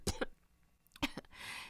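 A girl with a sore throat coughs sharply in two short pairs of bursts, close and fairly loud, with a breathy rasp trailing after the second pair.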